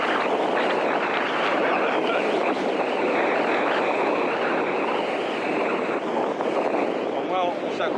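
Strong, steady wind at a wingfoil spot roars across the microphone with a broad rushing noise, loud and continuous throughout, with a faint voice briefly underneath.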